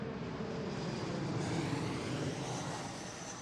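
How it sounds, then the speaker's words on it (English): A plane passes overhead near Seattle's airport during midday arrivals, a steady broadband roar that stays loud and close throughout, slowly swelling and fading slightly with no talk. "We do have a plane passing over us,"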